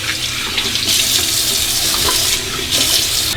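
Tap water runs into a sink during a face rinse after a shave, a loud, close, continuous splashing stream that surges a few times, with no talking.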